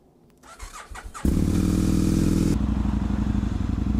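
A fuel-injected motorcycle engine with a blinking EFI warning light cranks with a few uneven sputters, then catches and roars into a loud, steady idle close by.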